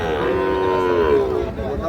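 A five-to-six-month-old Sahiwal calf at Ambari cattle market in Sirajganj gives one long, close, loud moo over the market's background murmur.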